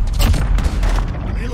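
A cruise missile explodes in Call of Duty Modern Warfare VR on PlayStation VR, a loud, close boom followed by rumbling blasts and crackling gunfire, with a voice speaking over the noise.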